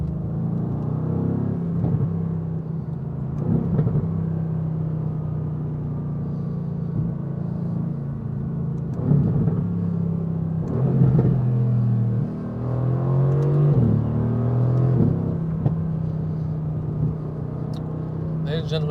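A Mercedes-AMG GT R engine pulling hard while driving, a loud low rumble with rising and falling tones as it accelerates and shifts, close and continuous.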